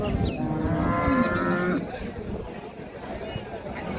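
A Friesian cow moos loudly and close by at a busy cattle market selling cows and calves. One long, drawn-out call sounds over constant crowd chatter and people talking nearby.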